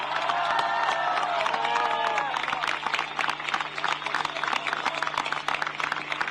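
A political rally crowd at a Communist Party primary election event in Chile breaks into applause and cheering, with a voice heard over the opening seconds before dense clapping carries on to the end.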